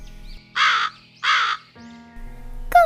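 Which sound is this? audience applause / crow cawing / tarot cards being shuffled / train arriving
crow cawing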